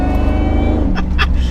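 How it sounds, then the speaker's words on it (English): A supercharged 430 bhp Ford SVT Lightning pickup truck engine drones loudly and steadily up close, with a rough low-pitched throb throughout. "I love a good supercharged engine."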